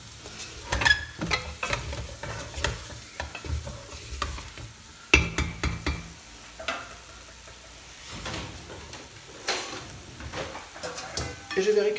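A spoon scrapes and stirs flour cooking in a saucepan with soft sizzling underneath, punctuated by irregular clinks and taps against the metal.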